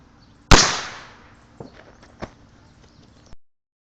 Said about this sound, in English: The bomb landed next to us!